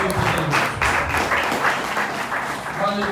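A church congregation applauding during a Portuguese-language sermon: a dense, continuous patter of many clapping hands at moderate volume, with voices mixed in.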